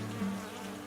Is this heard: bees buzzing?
yes